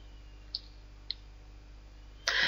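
A computer mouse clicking a withdraw button on a crypto earning site: two small, crisp clicks about half a second apart over low background hum, followed by a sudden burst of broad noise.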